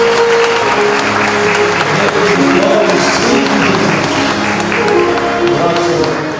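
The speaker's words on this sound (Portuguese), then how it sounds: "Vamos aplaudir esse momento." Congregation applauding in a church right after a baptism, steady full-room clapping that continues for several seconds with some voices and organ-like tones underneath.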